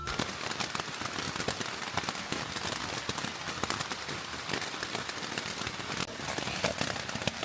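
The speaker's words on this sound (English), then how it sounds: "it started raining about 6 o'clock this morning." Steady rain patters on a tent along the Appalachian Trail, a dense continuous drumming of drops close overhead with no voices.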